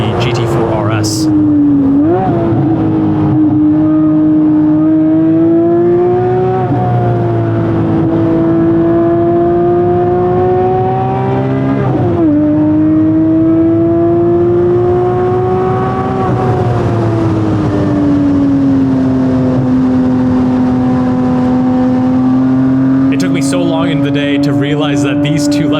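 Porsche Cayman GT4 on a race track, its engine loud and close, holding a sustained high-revving wail that drops and climbs through gear changes and corners, with a voice talking over it near the start.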